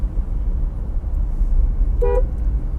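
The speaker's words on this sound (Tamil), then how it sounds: "ஸோ முடிஞ்ச வரைக்கும் ஹார்ன் கொடுங்க." A single short car horn toot sounds near the end, over a steady low rumble of engines and traffic on a busy market road.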